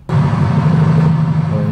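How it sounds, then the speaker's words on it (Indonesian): A rumbling engine starts abruptly and holds as a loud, steady low drone with a slight wavering texture and no talking. "oh ini suara mesinnya engine, kayak gemuruh."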